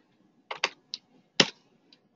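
Keys on a computer keyboard are tapped in a short, uneven burst of about five close clicks, with quiet gaps between them, as an email address is typed.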